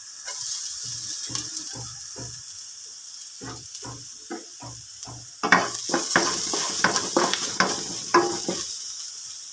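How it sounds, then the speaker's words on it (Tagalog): Garlic hitting hot oil in a pan starts a loud crackling sizzle that builds and sputters, following a run of sharp utensil taps and stirring knocks, all close and without talk. "Ilagay na natin yung bawang. Tayo magigisa na."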